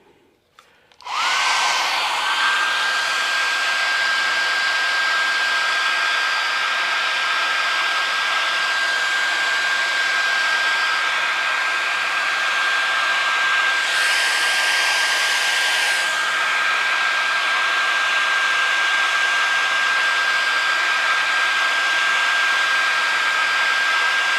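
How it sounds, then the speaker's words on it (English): A small hair dryer blows with a steady, loud whoosh and a high motor whine, running continuously for the length of the clip after a brief switch-on. "Pick up my small little hairdryer."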